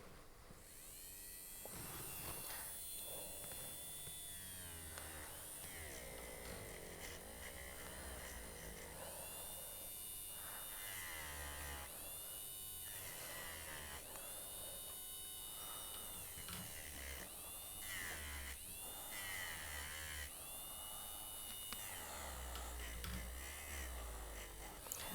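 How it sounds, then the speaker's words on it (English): A Foredom portable micromotor flex shaft fitted with a scratch eraser tool polishes jewelry edges, giving a faint, steady electric whine with slight shifts in pitch as it works, while someone talks quietly. "using the flex shaft and the scratch eraser tool that is made for flex shafts"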